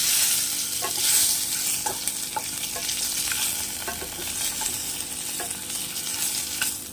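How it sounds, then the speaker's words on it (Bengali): Tomato fries in oil with panch phoron for achari dahi bhindi, a constant close sizzle punctuated by soft, irregular stirring taps of a spoon in the pan, with no voices. "টমেটোটা হালকা ভাজবো"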